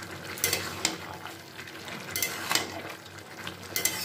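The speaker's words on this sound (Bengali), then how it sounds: "বড়িটাকে দেওয়ার পরে আবার ভালো করে একটু নাড়াচাড়া করে মিশিয়ে নিচ্ছি।" Gourd greens with ginger and lentil dumplings being stirred in a pan, giving intermittent scraping and clinking of a utensil against metal cookware amid a soft background sizzle, with three brighter strokes spaced a second or so apart.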